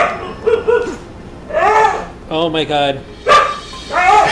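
A pet dog named in a game-streaming session barks and whines in short bursts, close to the microphone, with someone talking over it.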